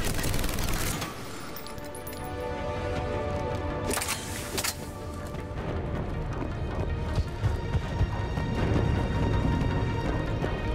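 Sustained gunfire in Mass Effect 3 during Aria's assault on Omega: dense, rapid automatic bursts and heavy shots overlapping continuously at close range, with a few sharper blasts cutting through.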